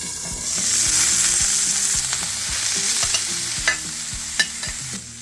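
Ground beef and onions sizzle steadily while browning in a skillet, a loud continuous frying hiss with occasional scraping stirs near the end and no voices.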